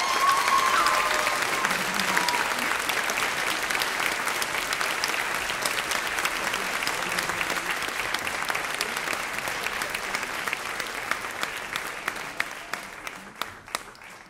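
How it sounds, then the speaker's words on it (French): A crowd applauds after a dance performance at a music and dance show, a long dense wash of clapping that gradually thins and fades over fourteen seconds, with scattered louder individual claps near the end. "Et bien sûr, on applaudit le travail de Sonia."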